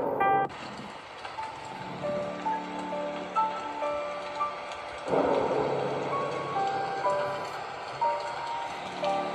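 Rain and thunder in the Slendrina 2D horror game: steady rainfall hisses throughout, a sudden crack of thunder breaks in early and another rumble swells midway, with faint game tones underneath.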